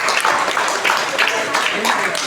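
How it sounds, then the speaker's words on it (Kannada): Classroom applause for a student's father at a school parents' meeting and science exhibition, a steady dense patter of many hands clapping throughout, close and loud. "ಚಪ್ಪಾಳೆ ಕೊಡಿ ಕ್ಲಾಸ್ ಕೊಡಿ ಮಕ್ಕಳ"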